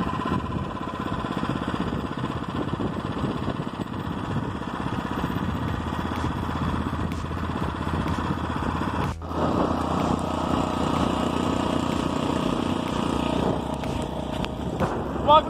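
The small engine of a motorized bicycle drones steadily during a ride on a camping tour, with wind rushing past throughout and a brief dip and shift in tone midway.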